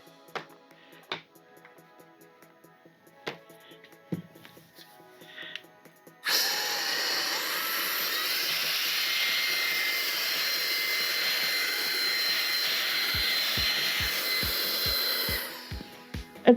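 After a few light handling clicks, a K&F Concept BS500M electric air duster starts up and runs about nine seconds as a loud, steady, high-pitched whoosh close by, then winds down with a few clicks.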